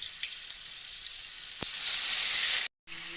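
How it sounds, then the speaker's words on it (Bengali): Green jackfruit fries in hot oil, a loud, steady sizzle that swells toward the end, breaks off briefly, then resumes. "এরপরে এঁচড়টাকে ভেজে নিচ্ছি তেলে"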